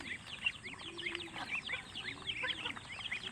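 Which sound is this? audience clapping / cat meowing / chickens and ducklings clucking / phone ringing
chickens and ducklings clucking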